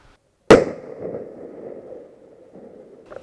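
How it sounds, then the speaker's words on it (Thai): A single loud explosion signal blast erupts suddenly after a moment of silence during an airsoft milsim game, followed by a long rumbling decay and faint noises toward the end. "เริ่มสัญญาณระเบิดนี่คือเราเริ่ม ทำการโจมตีแล้วนะครับ"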